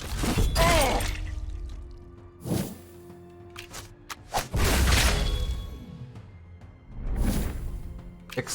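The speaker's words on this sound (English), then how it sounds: "Explosion!" A spell explosion in the dark fantasy game Iratus: Lord of the Dead bursts as a loud crashing, shattering blast, with a few more impacts around it amid other game effects and music.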